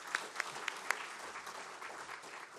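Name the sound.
audience applause at a lunch event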